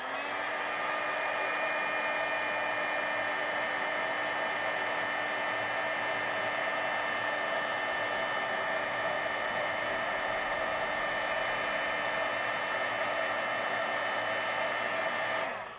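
A hair dryer blows steadily to dry alcohol ink on a craft piece, a loud, close, continuous whirring hiss that holds unbroken from start to finish with no talking.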